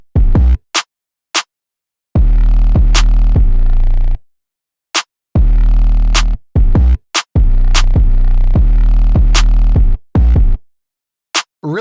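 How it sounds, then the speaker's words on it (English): Deep booming 808 bass hits with long sustained low tails, punctuated by sharp clicky percussion in a loose beat, loud and upfront. "it's just like a really nice sounding 808"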